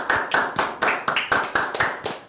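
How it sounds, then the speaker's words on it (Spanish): A church audience claps together in a steady, rhythmic beat, each hit crisp and loud, repeating about four times a second with no pause. "Vamos a dar un aplauso por ellos"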